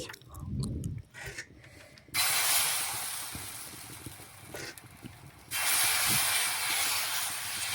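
Butter hits a hot tawa while making bati sapta pitha, giving bursts of bright, steady sizzling hiss close by, with quieter scraping and clatter between them.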